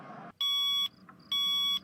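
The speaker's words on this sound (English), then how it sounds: "I just got a notice on my phone." A security alarm system sounds two identical sharp electronic beeps on a phone, each lasting about half a second, separated by a short pause in an otherwise quiet room.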